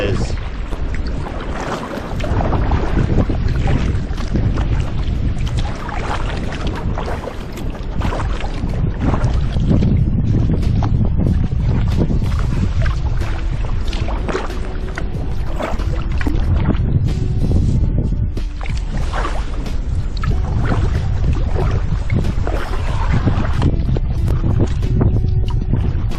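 Strong, steady wind roars and buffets the microphone while kayaking a shallow, marshy wilderness waterway in Michigan, a loud broadband rush filling the whole stretch with gusts swelling and easing.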